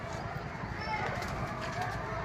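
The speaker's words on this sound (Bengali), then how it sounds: "3 নম্বর পায়রা নিয়ে চলে এসেছি।" Pigeons cooing in a loft, a steady low rolling coo running throughout over a dense bed of background noise.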